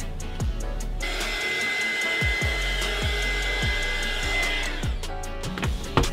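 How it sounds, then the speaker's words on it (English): A heat gun blows steadily to set resin paint on a galaxy rolling tray, a loud continuous whirring hiss that rises after a moment and holds, with several knocks and clunks over it. "sometimes I use my heat gun to try and set the paint a little faster"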